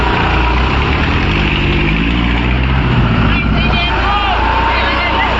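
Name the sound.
New Holland 5620 4x4 tractor engine running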